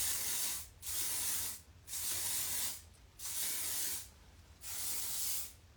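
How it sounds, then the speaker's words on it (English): Firm holding hair spray comes out of an aerosol can in five long, even hissing bursts, each about a second long, with short quiet gaps between them, close to the mic. "I'm also going to use this firm holding spray."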